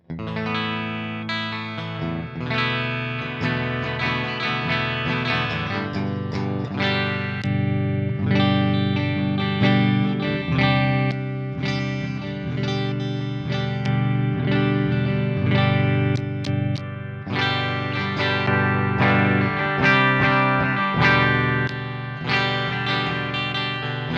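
Electric guitar through a modeled Dumble Overdrive Special amp on an Axe-Fx III, with a clean, chorused tone, plays chords and single notes continuously, steady and fairly loud with no voices.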